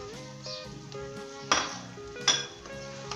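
Spices stirred into a pot of Punjabi potato, pea and carrot curry, metal utensil clinking and scraping against the pan with two sharp knocks, under a steady tonal background and no speech.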